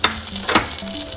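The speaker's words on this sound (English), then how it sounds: "And let's get all the spices. Cashews, cinnamon, clove, green cardamom and mace." Whole spices and cashews (cinnamon, clove, green cardamom, mace) hit hot melted butter for restaurant-style butter chicken, giving a brief, close sizzle with soft stirring scrapes.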